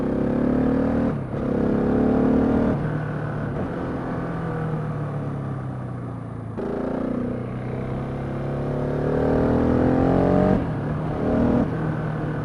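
A 2016 Husqvarna 701 Supermoto motorcycle rides around an improvised dirt supermoto track, its engine droning close and loud, rising and falling in pitch as the rider works the throttle.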